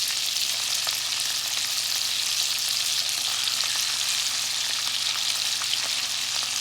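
Salmon fries in butter in a pan with a steady, dense sizzle that holds close and even throughout, with faint crackles and pops scattered across it and no talking.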